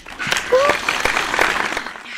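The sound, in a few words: inserted clapping sound effect track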